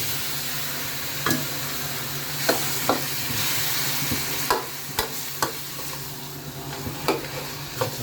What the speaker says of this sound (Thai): เอาหมูสามชั้นลงไปผัดนี่